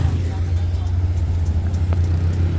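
A Fuso trailer truck drives along, its engine giving a loud, steady low drone with road rumble throughout, heard close up.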